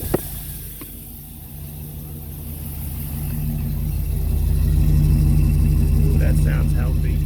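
A van engine idles with a steady low rumble, at a rebuilt van with a slight coolant leak, growing louder and fuller over a few seconds; a sharp click comes at the start.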